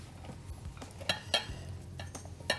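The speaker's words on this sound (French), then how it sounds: "on verse donc le chocolat sur la crème oui. en mélangeant délicatement la crème" A spatula gently folds chocolate into whipped cream with soft, wet scraping strokes and a few light taps against the bowl, quiet and close, without talk.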